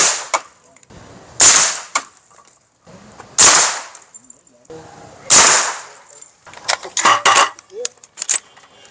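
Five 5.56 rifle rounds strike the glass of an armored SUV during a ballistic test. They come as sharp, loud cracks spaced roughly a second or two apart, each trailing a brief decay, followed by a quicker cluster of smaller impacts and clatter.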